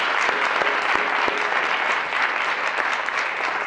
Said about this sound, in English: let's give Keller a round of applause for his action.